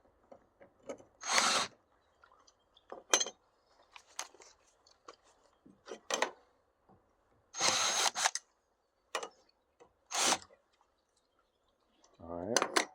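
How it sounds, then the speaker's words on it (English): Power drill bores a hole in a fiberglass boat hull during aluminum framing work, heard as several short, separate whirring bursts with quiet gaps, fairly close and moderately loud, ending in a brief rising whine. "Drill the hole out too large."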